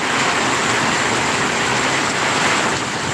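Heavy typhoon rain pouring in a dense, steady roar that fills the whole moment with no breaks and no voices.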